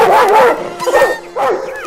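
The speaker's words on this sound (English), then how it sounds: "barked at the mischievous creature" A family dog barks loudly and close, three yelping bursts with brief gaps, the middle ones wavering like whimpers.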